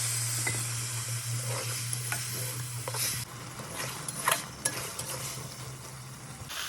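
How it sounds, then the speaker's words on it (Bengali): Red amaranth, stems and potatoes fry in a pan with turmeric as a spatula stirs them, making a low steady sizzle with scattered scrapes and clinks, fairly quiet and without talk. "এবার নেড়ে চেড়ে আমি ভালো করে কষিয়ে নেব।"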